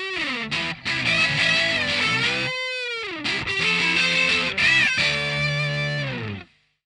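Heavily distorted electric guitar plays a solo, loud and up close, with sustained bent notes, slides and a sweeping pitch bend before stopping abruptly.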